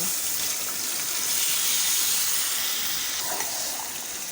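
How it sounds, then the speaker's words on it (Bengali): Beef pieces go into a hot pan of spices for a pickled-style beef curry, setting off a loud, steady sizzling hiss that stays strong and eases slightly at the end, with no voices. "দেওয়া হচ্ছে গরুর মাংস।"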